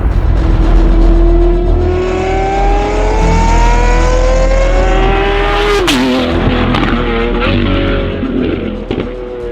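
A Lamborghini Aventador SVJ's V12 engine revs loudly from inside the car, a rising, harmonically rich howl climbing steadily, then dropping sharply around a gear change before building again, with no voices over it.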